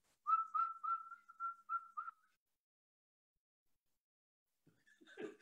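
A single person whistles a short run of about eight quick, clear, fairly steady notes close by, followed by silence and then a brief faint burst of voice or laughter.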